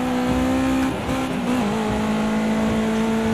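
A race car in the Project CARS 2 video game holds a steady, loud engine drone through a lap. The pitch dips briefly as it changes gear, then settles again, with no talk.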